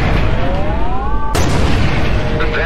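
New spaceship guns fire in the Everspace 2 space shooter over a loud, continuous rumble, with one sharp blast cutting through midway and a rising, whistling tone underneath.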